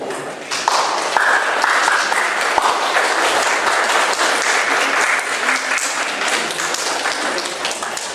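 Dense applause from an audience at a gathering in Morocco marking International Women's Day with migrant and refugee women, loud and continuous throughout, with a few sharper claps and thumps standing out.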